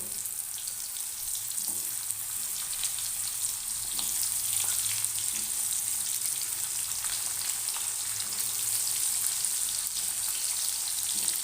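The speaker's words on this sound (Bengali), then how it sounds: "পটলগুলোকে ভেজে নেব আগে পটলগুলো ভেজে নেব" Pieces of pointed gourd fry in hot oil with a constant, bright, hissing sizzle and faint crackles that run evenly throughout, with no voices.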